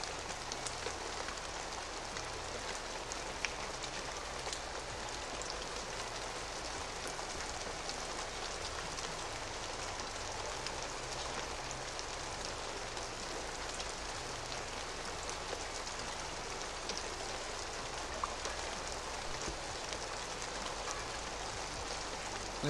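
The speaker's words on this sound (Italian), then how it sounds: "Ah, piove!" Steady rain falls in a dense, even hiss with no breaks, a continuous patter that holds at the same moderate level throughout.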